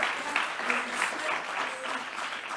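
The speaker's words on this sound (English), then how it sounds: "give a big round of applause for our next speaker" A conference audience in Brussels claps for the next speaker, a steady dense patter of many hands filling the hall for a few seconds.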